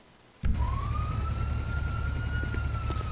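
An emergency vehicle siren in a video game starts abruptly and wails steadily with a rising then sustained tone over a loud engine rumble, close and prominent with no talking.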